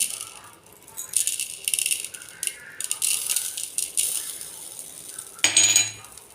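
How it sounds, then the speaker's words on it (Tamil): Oil sizzles and crackles as urad dal and dried red chillies fry in a tempering, with a metal spoon rattling against the pan and a louder clatter near the end. "வெறும் உளு உளுந்தும் காஞ்ச மிளகாய் ரெண்டும் போட்டு தாளிக்கிறேன்"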